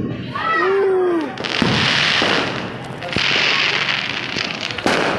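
Diwali firecracker exploding outdoors: a voice calls out briefly, then loud crackling blasts and popping bursts follow in two long waves, ending with a sharp bang.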